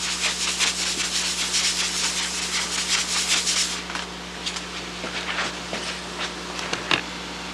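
Steady abrasive rubbing of sandpaper across a surface, fairly close and continuous for several seconds before easing into lighter, scattered scrapes. A constant low hum runs underneath, and no one speaks.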